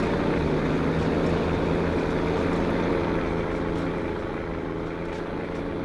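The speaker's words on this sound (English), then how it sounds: "This tractor is loud." Loud, steady engine drone of a tractor in the video game Farming Simulator 25, a dense continuous rumble that holds for several seconds without talking over it.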